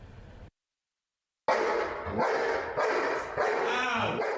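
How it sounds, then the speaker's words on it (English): A trained guard dog barks repeatedly during an attack demonstration at a canine academy, the barks loud and close, running in rapid bursts after a brief silence. "Canine Sparrow swiftly springs into action during this demonstration, doing all he can to protect his owner, Leland Rodriguez."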